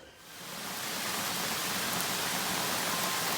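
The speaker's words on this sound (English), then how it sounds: "we've got rain." Steady rain falls outside a French chateau under renovation, a dense, even hiss that swells in over the first half second and then holds constant, close and uninterrupted, with no voices.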